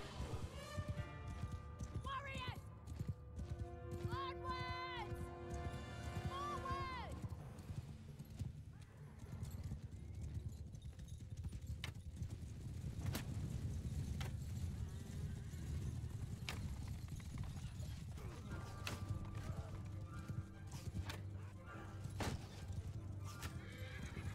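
Horse hooves clatter in a fast galloping rhythm in Mount & Blade II: Bannerlord, alongside repeated neighs and whinnies, a busy mix of stable sounds throughout.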